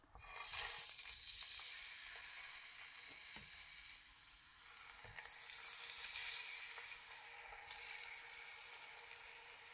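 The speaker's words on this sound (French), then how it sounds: "je viens maintenant déposer le poisson pour le faire frire" Loud, steady sizzling of fish frying in hot oil, a dense hiss that swells and eases slightly throughout, with no voices.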